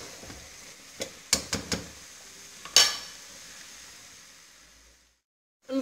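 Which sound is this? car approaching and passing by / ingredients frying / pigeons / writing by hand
ingredients frying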